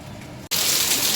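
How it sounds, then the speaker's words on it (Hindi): Heavy, stormy rain suddenly begins after a brief silent gap, becoming a loud, dense, steady roar of downpour that fills the rest of the moment. "दोस्तों एक दफ़ा फिर बहुत तेज़ तूफ़ानी बारिश शुरू हो गई है"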